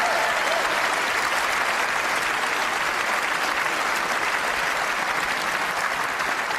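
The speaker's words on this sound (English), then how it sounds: "Give yourself a massive round of applause, ladies and gentlemen, for the wonderful work you've done this year." A crowd at the BAFTA Games Awards 2019 claps loudly and steadily, a dense, even wash of applause filling the hall without a break.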